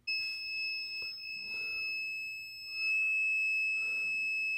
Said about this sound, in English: Continuity, it's good.